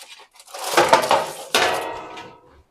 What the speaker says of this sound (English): Grabbed another baking sheet to make the squishing a little bit easier.